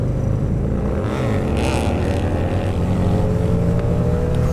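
A Harley-Davidson V-Rod motorcycle engine roars loud and steady at close range, its deep rumble rising in pitch as the revs climb toward the end.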